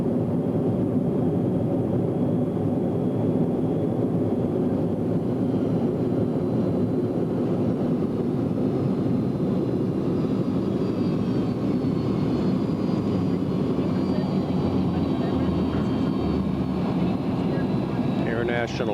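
A jet aircraft on landing approach roars continuously with a loud, broad engine rush from reverse thrust, steady throughout, with people talking underneath.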